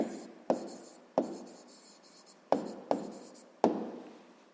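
A pen writes down the answer to a 6th-grade math problem, with scratchy strokes on paper broken by five or six sharp taps as each new mark begins, close and quiet with no talking.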